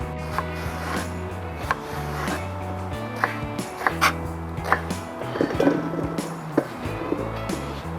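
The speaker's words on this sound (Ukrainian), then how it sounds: "Очищені баклажани нарізаю досить крупним кубиком, приблизно сантиметр на сантиметр." Knife cutting peeled eggplants into large cubes on a board, a series of irregular close knocks and taps under a low steady background hum.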